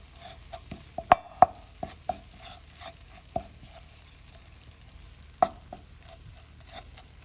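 Fenugreek seeds roast in a pan for a fried sardine curry, a faint low sizzle under a series of sharp, irregular spoon clinks and scrapes against the pan.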